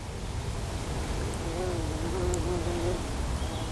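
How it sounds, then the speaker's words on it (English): Common carder bumblebee on a woodland walk: a soft, wavering buzz drifts in for about two seconds over steady outdoor hiss. "There's a rather lovely common carder bumblebee."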